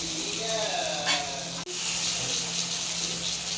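Adai batter fries in a generous amount of oil on a pan over a low flame, giving a steady close sizzle with one brief dip near the middle.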